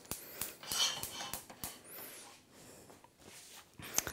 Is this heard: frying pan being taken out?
yes